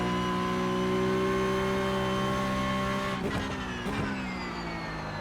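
A Porsche Cup race car engine in a sim racing game drones at steady high revs, then drops and rises through gear changes with brief tire squeal, loud and alone.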